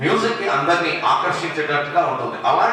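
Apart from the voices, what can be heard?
No everyday noises stand out.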